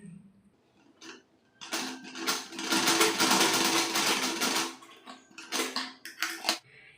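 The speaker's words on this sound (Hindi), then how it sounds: "फिर से इसको इस तरह से मोड़ेंगे और इस पे सिलाई लगाएंगे" A sewing machine stitches through folded fabric in a loud, steady run of rapid needle clatter that stops and restarts in short bursts near the end, with no talking.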